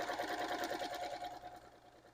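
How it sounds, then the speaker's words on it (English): A sewing machine chain-stitching quilt pieces cut with a pineapple trim ruler runs in a steady, fast mechanical whir, close and continuous throughout, easing slightly toward the end with no talking. "we're going to go ahead and get these sewn on."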